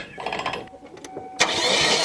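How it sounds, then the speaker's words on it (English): The engine of a 2001 Kia Sportage cranks over with its spark plugs removed during a compression test. A short mechanical churn is followed by a louder, sustained cranking burst near the end, with a voice briefly audible early on. "And then you crank the motor with no spark plugs in it to see what kind of pressure you've got."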